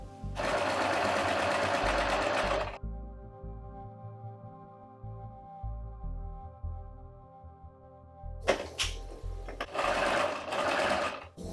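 A sewing machine stitches an old sweater into a beanie hat, running in two loud continuous bursts of rapid stitching separated by a quieter pause of low mechanical hum.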